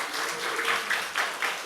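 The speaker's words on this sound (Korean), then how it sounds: "이 부활절에 승리의 함성으로 데뷔를 하는 우리 찬양대를 위해서 박수 한번" A church congregation applauds the choir at an Easter service, a short burst of room clapping with a few sharper claps rising near the end.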